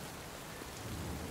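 Steady rain pours down in an even, dense hiss, close and unbroken, with a deeper rumble underneath and no voices.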